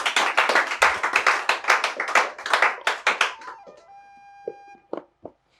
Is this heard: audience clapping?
yes